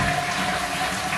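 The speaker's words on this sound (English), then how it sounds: "So this is the flush." A toilet flushing in a newly renovated bathroom, a close, steady rush of water running throughout.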